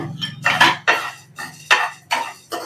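Black pepper and cumin are dry-roasted with lentils in a pan for sambar powder. A spatula gives a run of short, close, metallic scrapes and clatters in an uneven stirring rhythm.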